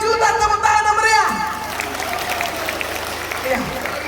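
An audience at a Christmas church gathering of GBKP Tiga Juhar breaks into applause, a dense wash of clapping following a voice, loud and close.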